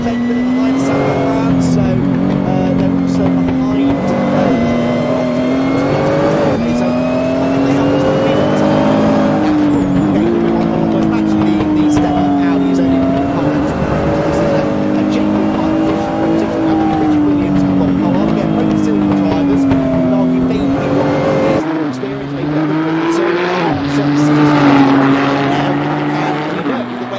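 Race cars, including a Nissan GT-R, scream past at Yas Marina circuit, loud engine notes rising and falling with gear changes over nearly half a minute, with commentators talking over the racing.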